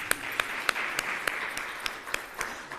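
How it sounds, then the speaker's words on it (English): An audience at a meeting gives sparse applause over a hiss of crowd noise, with sharp, evenly spaced claps standing out roughly three times a second. "I think we need to give ourselves a round of applause."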